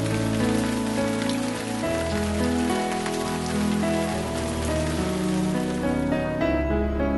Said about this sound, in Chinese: 啊，下雨了！